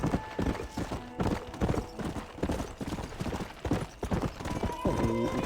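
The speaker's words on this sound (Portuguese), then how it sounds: "o povo, o cavalo aqui anda muito rápido" Horse hooves clip-clop quickly in Red Dead Redemption, a steady rapid trotting rhythm close by, with occasional game sound effects and a tonal chime near the end, no talking.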